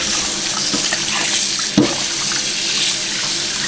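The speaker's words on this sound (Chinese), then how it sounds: "这个一定要用热水洗哈" Pork hock rinsed under a running kitchen tap with hot water, a steady close splashing stream with one brief louder splash midway.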